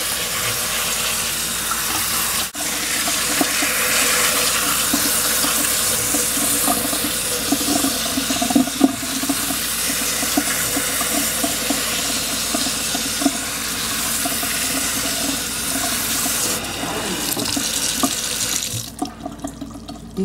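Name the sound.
tap water rinsing bean sprouts in a tray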